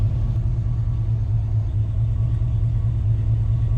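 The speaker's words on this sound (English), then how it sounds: "I had the truck idling for 20 minutes in the sun." A steady, low engine rumble from an OBS GMC pickup truck drones at idle, constant and even throughout, close up with no voices.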